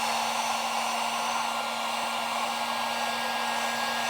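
A hair dryer runs continuously at a steady, loud whoosh with a faint constant hum as it heats up a G.I. Joe Classified action figure, with no talking over it.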